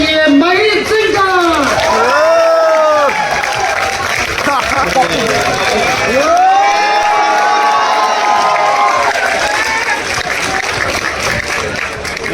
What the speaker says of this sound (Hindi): जोरदार तालियों से स्वागत करिए महीप सिंह का